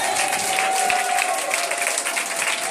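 A church congregation at a thanksgiving deliverance service applauds and cheers, sustained dense clapping from a large crowd, loud and continuous, with voices mixed in.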